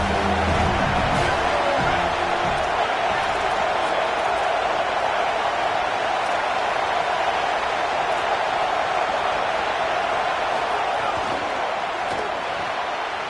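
A football stadium crowd roars in a continuous, dense wash of cheering and noise during a drive into the red zone, with faint commentary underneath.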